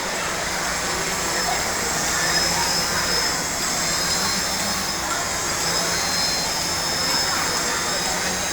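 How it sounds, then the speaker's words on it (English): An automated firefighting drone in flight gives a steady, loud whirring drone with a high whine that holds unbroken throughout, while someone speaks over it. "As you can see, this is the flight of the drone."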